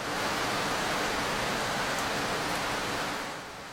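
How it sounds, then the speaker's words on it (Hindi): Rain is falling outside as a steady, dense hiss of broadband noise, constant for the whole stretch and easing slightly at the end, with no voices over it. "लगता है बाहर बारिश शुरू हो गई।"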